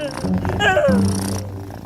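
A kitten purrs in a brief, soft rumble close to the listener, with a few faint vocal sounds mixed in.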